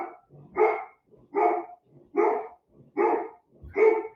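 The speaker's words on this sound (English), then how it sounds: "That's the dog barking." A dog barks five times at an even, steady pace, each bark loud and close with short gaps between them, and nobody speaks over it.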